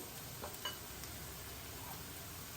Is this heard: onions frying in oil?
yes